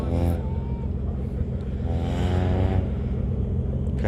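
An Invacar drives along on a road trip, its small engine and exhaust giving a steady, rumbling drone with a faint rising tone, heard from inside close up and partly under talking.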